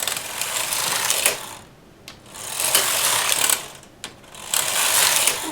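A knitting machine carriage sweeps slowly across the needle bed knitting rows for a ribbed horizontal buttonhole, giving three loud mechanical whooshing, clattering passes separated by brief pauses and a sharp click, with no talking.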